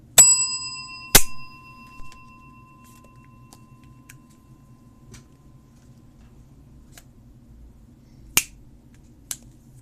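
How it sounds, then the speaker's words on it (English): A small bell rung during a tabletop game session of Inscryption played in real life: a bright, ringing strike near the start, a second strike with a sustained decaying tone, then a few faint clicks and two sharp taps later, no voices. "She rings the bell again."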